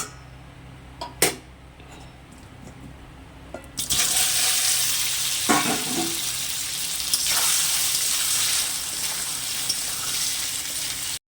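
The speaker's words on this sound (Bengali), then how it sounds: "তো এর মধ্যে আমি কচুগুলো ভেজে নেব।" Taro pieces hit hot oil in a wok and set off a loud, steady sizzle that lasts to the end, after a few knocks and utensil taps at the start.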